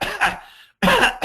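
A person coughs in two loud, harsh bursts separated by a short silence, close by, in a laboratory setting.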